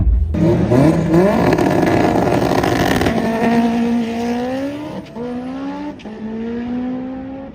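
Toyota MR2 making a drag racing pass at Import Face Off, its engine loud and close as it revs hard and climbs through several gear changes, with tire noise and a rising, sustained drone.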